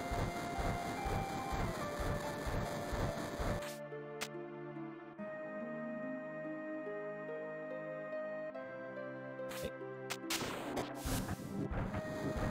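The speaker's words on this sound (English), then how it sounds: "I also like how Cloud just knows how to operate trains." A train in the video game Final Fantasy VII rumbles and clatters along, with loud metallic crashes and bursts of noise around a sustained, droning mechanical tone.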